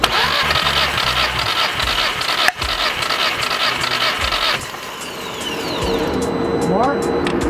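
A VW 2.0T TSI engine cranks repeatedly on the starter during a compression test, with a sharp pop partway through, then the cranking stops and people talk.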